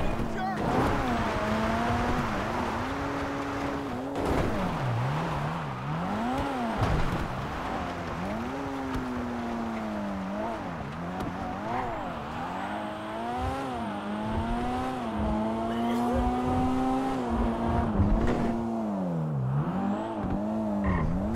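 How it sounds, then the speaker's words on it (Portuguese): A car in GTA V drives steadily with a constant engine drone that climbs and dips in pitch as it shifts and revs, with occasional tire noise, loud and continuous throughout. "O carro tá filé pra andar."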